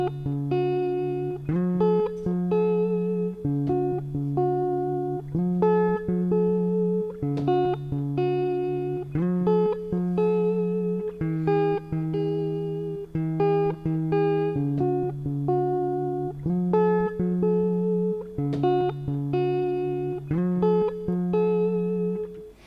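Electric guitar recorded through a DI box into a Maschine MK3 plays a steady, repeating clean picked pattern of bright, full notes that continues alone for the whole stretch.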